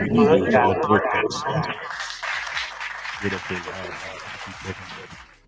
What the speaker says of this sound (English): I got applause now.